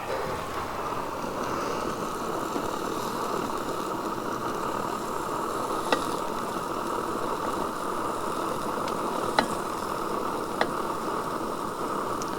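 Fresh sausage frying in a pan during a truck-camping breakfast, an even, continuous sizzle with a few faint, sharp pops scattered through it.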